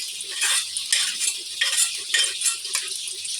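Potatoes cook in a pan while being stirred, a sizzling fry punctuated by repeated scraping and clinking strokes of a utensil against the pan, close and rhythmic.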